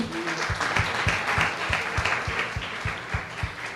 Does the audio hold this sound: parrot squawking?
no